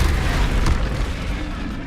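A Confringo spell blast in the Hogwarts Legacy video game, a loud, deep, booming burst close up that rumbles on briefly.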